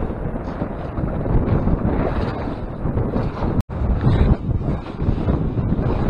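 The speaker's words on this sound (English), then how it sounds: "it's almost impossible with this wind the way it is" Strong wind buffets the microphone on a lake during a cold-front fishing trip from a boat, a loud, continuous low rumble and roar that persists nearly throughout, with one brief dropout partway.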